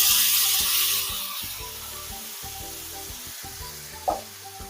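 Chicken lollipops frying in a pan with green chilli sauce and soy sauce, a steady sizzle that fades slightly over time, with a single sharp scrape near the end.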